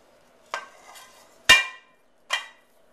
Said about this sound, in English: I'm going to lift it out of the pan